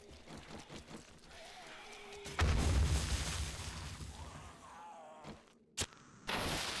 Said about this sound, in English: Hunting rifle's pretty devastating.